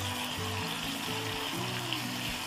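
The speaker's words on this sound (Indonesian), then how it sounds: "Setelah minyak panas, ini langsung ditumis" Chili and salt sizzle in hot cooking oil in a home kitchen, a steady close frying hiss with no talk over it.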